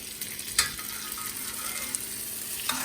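Salmon sizzling in a pan while being basted with melting honey, a soft steady frying hiss with a few brief clicks of a spoon, close but fairly quiet, no voices.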